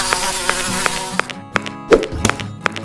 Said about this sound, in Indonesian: Kok jadi banyak lalat sih?